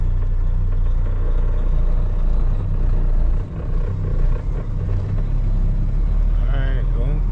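Loaded semi truck on the road, a deep steady engine rumble with road noise that dips briefly midway, and someone talking over it.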